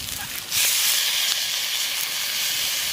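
Tomatoes go into a hot pan with green chillies, spices and turmeric, and after a short pause a loud, steady sizzling hiss erupts and carries on close by.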